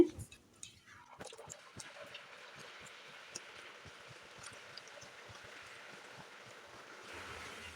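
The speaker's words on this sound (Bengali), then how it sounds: "এবারে যে টিফিনগুলো বানিয়ে রেখেছি এগুলোকে দিয়ে দিচ্ছি তেলে" Semolina and egg snacks drop into hot oil and fry with a faint, steady hiss and scattered soft crackles after an initial quiet moment.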